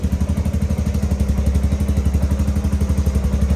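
A Royal Enfield Bullet motorcycle engine, just self-started, thumps steadily at idle, close and loud, with an even rapid pulsing rhythm and no voices.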